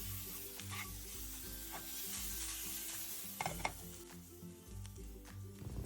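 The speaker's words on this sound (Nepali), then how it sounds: "अनि क्याप्सिकमलाई पनि राखेँ अनि 1 मिनेट जति भुट्दैछु।" Capsicum frying in a pan for a Nepali-style chicken chilli momo sauce: a steady, close sizzle with stirring scrapes throughout, over faint background music and no speech.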